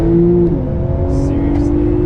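A Porsche 911 Turbo S launches hard under launch control, its loud engine tone holding steady and then climbing as it pulls through a quick gear change, heard close and continuous throughout.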